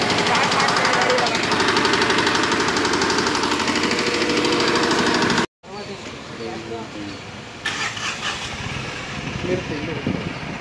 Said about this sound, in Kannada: Start ಮಾಡ್ದೋ tiller. ಸ್ಟಾರ್ಟ್ ಆಯ್ತು.